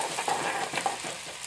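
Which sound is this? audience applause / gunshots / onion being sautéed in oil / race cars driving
onion being sautéed in oil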